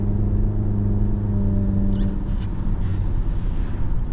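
A 2023 Jeep Cherokee Altitude 4X4 picks up speed toward the limit, its steady engine and road rumble droning inside the cabin, loud and continuous with a few faint clicks over the top.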